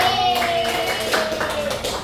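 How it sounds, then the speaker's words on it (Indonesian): A room of people clap together in a brisk, continuous burst, with a cheerful voice and a faint steady tone running underneath. "boleh tepuk tangan dulu buat kelompok"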